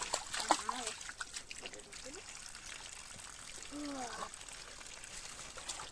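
Cold spring well water splashes and trickles near the Zakhar Berkut area around Volosianka, with intermittent pouring and sloshing while someone drinks and washes, fairly faint against an open outdoor background.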